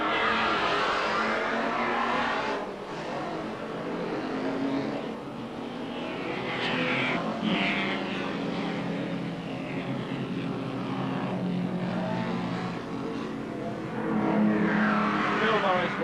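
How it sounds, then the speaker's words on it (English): Historic race cars, including an A model Ford, run at Phillip Island during the 1978 Australian Grand Prix, their engines roaring and revving in continuous waves as they pass at moderate distance, with a commentator talking over the noise. "car 78 is Kevin Shearer in the A model Ford"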